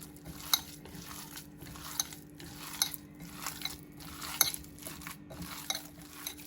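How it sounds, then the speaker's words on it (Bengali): Momo dough being kneaded by hand with salt and oil, giving soft, faint, irregular squishing and pressing sounds with light clinks of a bowl, no talking. "স্বাদ মতো লবণ একটু তেল দিয়ে এটাকে ভালো করে মেখে নেব আমি"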